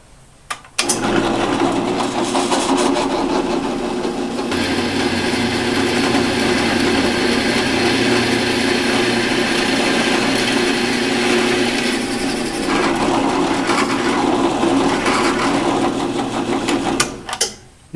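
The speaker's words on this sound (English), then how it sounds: "I'm going to go over to the drill press." A drill press fitted with a Matco step bit cuts a hole in a steel bracket for a Tacoma build, whirring loudly and steadily for about sixteen seconds before spinning down.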